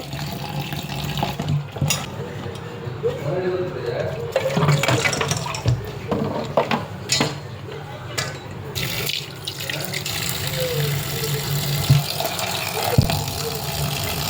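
Tap water runs and splashes into a container while soaking ingredients for a fish fry masala, a continuous close gushing stream with intermittent clinks and clatter of utensils.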